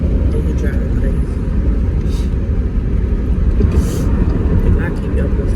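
A car driving on the road, heard from inside the cabin as a loud, constant low rumble of engine and road noise with no clear changes, and no audible talking.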